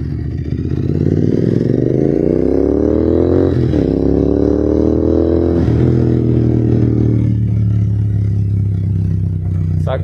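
A Royal Enfield Continental GT 650 rides and turns near Bangalore University, its twin-cylinder engine loud and close throughout, pitch rising and falling with gear changes and throttle, with a scrape near the end.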